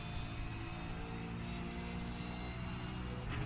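A racing car engine in the iRacing sim at Road Atlanta, a constant loud droning roar held throughout with no clear shift breaks and no talking.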